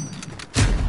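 Short burst of SMG gunfire in a Call of Duty 1v1 match, a loud, dense low thump of rapid shots arriving suddenly after a quieter stretch and continuing to the end.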